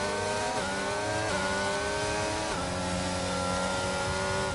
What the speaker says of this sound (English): It just looks like the revs keep about redlining right through the gears.